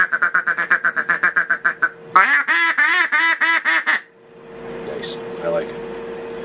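A double reed duck call blown in a run of short raspy quacks, then a second louder sequence of quacks with a rough, buzzy tone, close and loud, followed by fading room noise.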